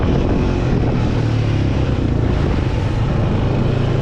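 Honda Foreman 500 ATV engine running steadily while riding and downshifting, a loud continuous low drone with wind rush over the microphone, no talk.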